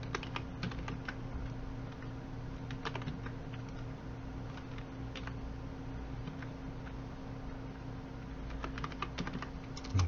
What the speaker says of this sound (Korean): 탭키 누르면 되겠죠